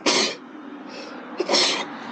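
A person sneezes twice close by, short bursts of breathy noise with a brief quiet gap between them.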